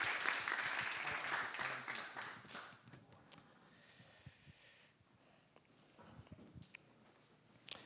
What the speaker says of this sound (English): How about a big round of applause for Marlon Blackwell?